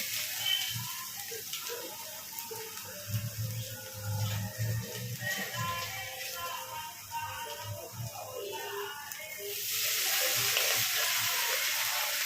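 Oil spatters and sizzles steadily in a frying pan over a low flame, a close, continuous crackle that swells into a broader, brighter hiss near the end.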